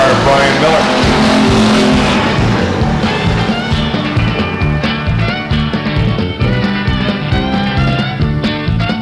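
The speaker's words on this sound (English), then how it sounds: "This stripe, it's Joe Allen for the lead." Stock cars race at Stockton 99 Speedway, a loud, steady engine roar with passing revs and some tire noise, with an announcer talking over it throughout.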